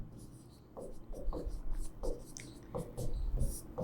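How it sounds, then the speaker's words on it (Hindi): Chalk or marker strokes on a board while a maths pattern is written, a steady run of short scratchy marks repeating about every half second, close and fairly clear beneath faint room noise. "मैं पैटर्न लिखता हूं"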